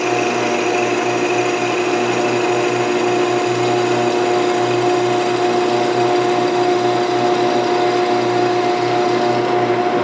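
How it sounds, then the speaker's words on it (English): A drill bit bores into wood on a running lathe, giving a constant high whine and grinding hum that stays steady from start to finish. "And we'll start advancing the drill bit."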